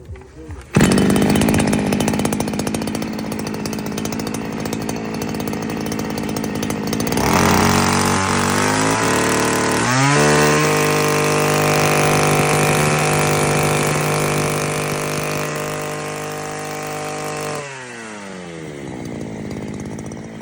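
A Vitals BK-553AVs petrol brush cutter starts with a sudden pull and runs loudly close by, its two-stroke engine revving up around seven seconds, holding a high steady whine, then dropping back near the end.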